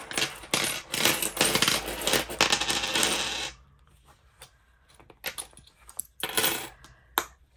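Coins from a savings challenge are handled and dropped, first a dense run of jangling, clattering metal for several seconds, then scattered separate clinks and taps, close and fairly loud.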